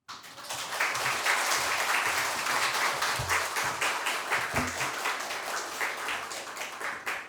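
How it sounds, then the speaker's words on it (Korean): A church congregation claps in welcome as a pastor comes forward to preach at a Sunday morning service, a full, even roll of applause that swells quickly and holds steady with no talking. "박수로 환영해 주시기 바라겠습니다."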